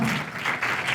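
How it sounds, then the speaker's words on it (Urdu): A church congregation claps in praise during a sermon, a brief dense burst of applause filling the space. "اپنے خداوند کے لیے تالیاں بجائے۔"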